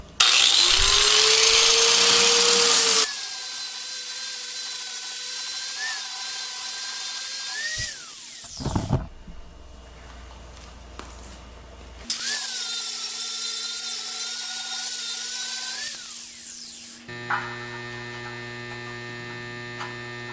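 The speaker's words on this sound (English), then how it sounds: "this one had the flap disc on it. So we're going to remove the burrs on these holes and get the primer off of here" A flap disc grinder strips burrs and primer from metal, giving a loud, steady high whine in several long bursts separated by pauses and spin-down hum.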